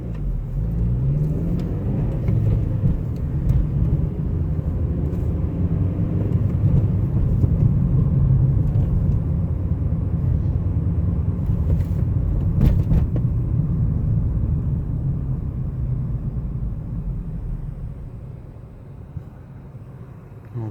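A 2014 Honda Civic Si sedan pulling away in gear and driving, a loud, steady low engine drone heard from inside the cabin that eases off near the end.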